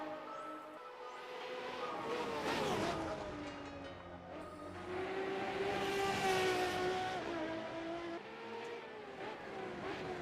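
A race car engine in the Assetto Corsa racing game drones steadily for ten seconds, its pitch rising and falling through gear changes as it accelerates, loud and continuous with no talk over it.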